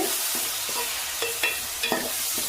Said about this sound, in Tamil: இப்போ தக்காளி வதங்கிடுச்சு